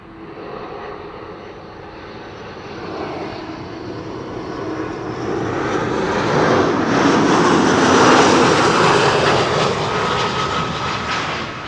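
A passenger jet arriving from Frankfurt, Germany, as flight 988 roars in with a broad engine rumble that builds steadily louder toward a peak near the end.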